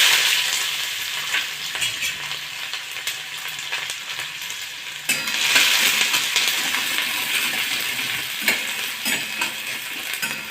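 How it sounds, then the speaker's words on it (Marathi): Chopped onion goes into hot oil already holding cumin and mustard seeds, frying for a colocasia-stem curry. It hisses in a steady, close sizzle with scraping stirs, surging louder about halfway through, and no one speaks. "कांदा घालूया,"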